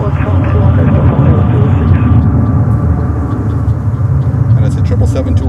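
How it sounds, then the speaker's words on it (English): An American Airlines Boeing 777-200 arrives at JFK as a loud, steady, close jet rumble that fills the whole stretch, with voices over it. "And it's a 777-200 from American Airlines coming in from Barcelona in Spain."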